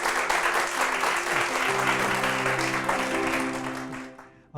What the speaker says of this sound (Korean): 우리 박수로 맞아주시기 바랍니다.